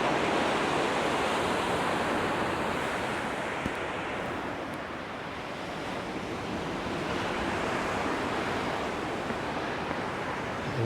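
Ocean surf at high tide on Padaro Beach, Santa Barbara, rolls in as a continuous broad wash of breaking waves with some wind rumble on the microphone, steady and loud throughout with no voices.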